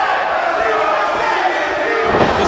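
A wrestling crowd in Mooresville chants steadily at Petey Williams, a dense, loud wall of massed voices and cheering that holds throughout, with no clear individual speech.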